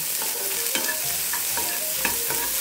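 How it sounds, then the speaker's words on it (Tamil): Turkey berries sizzling in an oiled pan while a spoon stirs them, a steady close frying hiss broken by soft scraping strokes every half second or so. "இதை நல்லா வதக்கிக்கலாம்."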